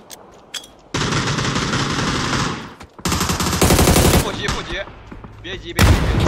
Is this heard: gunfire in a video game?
yes